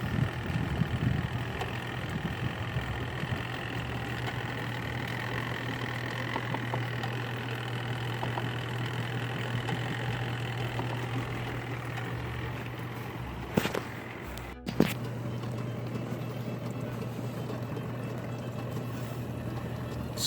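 A Costway mini washing machine spins with a steady, faint low hum and whir under constant background noise. A couple of brief clunks are heard near the end.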